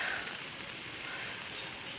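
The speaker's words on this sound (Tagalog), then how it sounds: "Umuulan na siya guys." Steady, soft hiss of rain falling, an even wash of patter with no voices, fairly faint and continuous.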